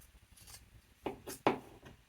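Scissors snipping through a thrifted shirt, close and fairly quiet, with a few soft cuts followed by two sharper, distinct snips near the end.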